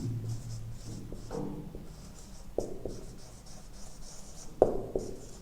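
Pen writing on paper while working through a maths exercise, with soft scratching strokes broken by sharp taps and clicks at irregular intervals.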